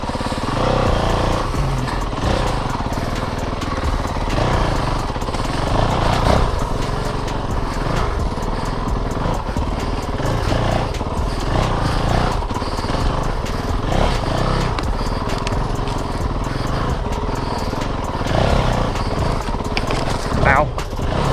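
A Honda CRF450L motorcycle engine idles and putters along a trail, a continuous low rumble with wind noise and a rider talking over it.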